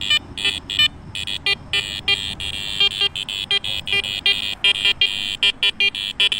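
A Garrett Ace Apex metal detector over iron-laden ground gives rapid high electronic beeps that chatter in an uneven stream over a steady tone and low background noise, the tones clipping on and off constantly.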